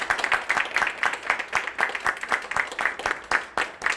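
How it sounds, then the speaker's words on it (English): An audience applauds a discussion panel at a creative arts event, with steady dense clapping from a crowd that holds at a loud, even level for the whole stretch. "Let's give a round of applause for our panel."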